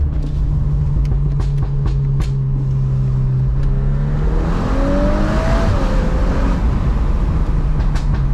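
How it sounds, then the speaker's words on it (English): A tuned Stage 1 VW Golf R Mk8 drives along loudly, its engine drone rising in pitch as it accelerates with a whistling rush of air from the intake under constant road and wind noise, heard from inside the car. "Can you hear this wind rushing noise? That's like air being forced to the OPF."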